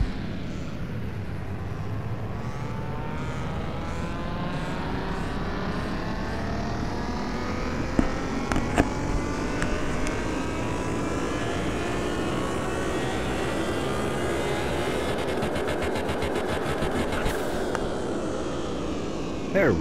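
A Nissan GT-R twin-turbo engine revving on a dyno in the video game Car Mechanic Simulator, a continuous loud engine note climbing steadily in pitch for a long pull, with a few clicks near the end.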